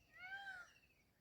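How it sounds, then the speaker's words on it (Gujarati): A peacock gives a single faint, drawn-out call over quiet background, a short rising and falling wail heard at a distance. "જો તારા મોરલો બોલે છે"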